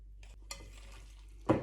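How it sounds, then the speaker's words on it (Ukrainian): Soft scraping and clinking of a utensil stirring crab stick salad dressed with mayonnaise in a bowl, a few brief strokes ending in a louder thump, close by. "Перемішую салат."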